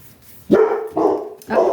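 A female dog gives three loud, close barks, the first sharp and rising, each followed by a short pause.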